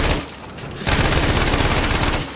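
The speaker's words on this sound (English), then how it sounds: "They're shooting at us with the AAs." Rapid anti-aircraft gunfire in the Battlefield 1 video game, a dense rattling burst that grows louder after a quieter start and keeps up steadily to the end, with no talk.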